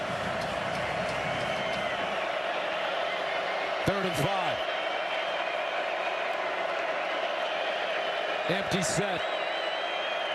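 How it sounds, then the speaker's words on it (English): Dense, continuous crowd roar fills a college football stadium during the Texas Tech at Utah game, loud and unbroken, with an announcer talking over it and brief whistle-like bursts. "the crowd noise just making it really difficult on this Tech team"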